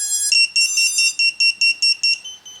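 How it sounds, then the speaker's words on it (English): A buzzer on a Grasshopper 94 micro FPV racer drone gives one long tone, then about nine loud, shrill, evenly spaced beeps close by, with no talking. "that buzzer's really quite loud"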